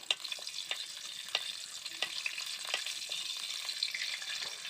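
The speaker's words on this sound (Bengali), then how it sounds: "এবার ফোড়ন হিসাবে দিয়ে দিচ্ছি দুটো তেজপাতা দুটো এলাচ দুটো লবঙ্গ একটা দারচিনি এবার ভালো করে এই ফোড়নগুলোকে ভেজে নেব" Whole spices (two bay leaves, two cardamom pods, two cloves and a cinnamon stick) fry in hot oil, giving a steady close sizzle with small crackling pops as they are stirred.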